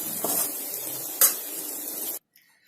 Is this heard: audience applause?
no